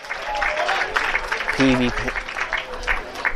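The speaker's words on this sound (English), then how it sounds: "giving Castro a round of applause for the effort right there" Fans at a Texas Southern versus Prairie View college baseball game applaud a fielder's effort, a scattered, moderate clapping from the stands under a play-by-play announcer's talk.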